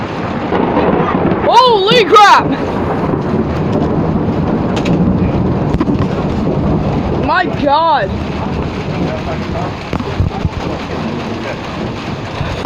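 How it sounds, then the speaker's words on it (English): Steady heavy rain with rumbling thunder during a hail storm, loud and close, while people exclaim throughout. "Oh, that was lightning."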